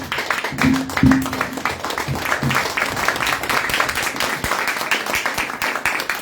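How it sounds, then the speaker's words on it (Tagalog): A church congregation at a Christian fellowship service gives sustained, loud applause that continues steadily throughout, with a brief voice near the start. "Palakpakan natin ang Panginoon na malakas. Sige, matagal na palakpakan."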